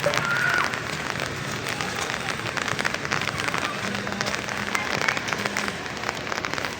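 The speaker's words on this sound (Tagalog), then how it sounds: "Nambutan ako ng ulan." Steady rain patters and hisses on surfaces, a dense crackling wash of drops with a faint low hum underneath.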